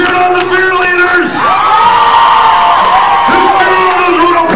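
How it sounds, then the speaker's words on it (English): A roller derby crowd cheers loudly for the Fearleaders, a dense roar of shouts and high whoops that swells, dips briefly, then surges again. "Who's cheering on the Fearleaders?"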